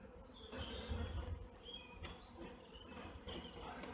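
A swarm of honeybees buzzes around a hive during swarm collection, a dense, continuous droning hum with individual bees passing close, and faint birdsong in the background.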